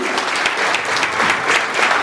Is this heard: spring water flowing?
no